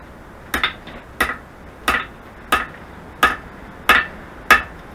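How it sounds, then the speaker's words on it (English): Seven sharp metallic taps of a hard hammer on stainless steel trim, evenly spaced about two-thirds of a second apart, each a bright ringing strike close by with nothing else sounding. "you got to use a hard hammer, not a rubber hammer."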